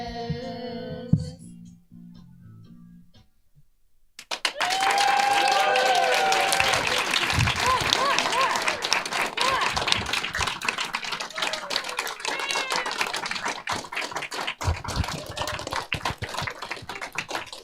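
Audience at a first grade school musical breaking into loud, sustained applause after a brief quiet, dense clapping that continues without pause, with some cheering mixed in.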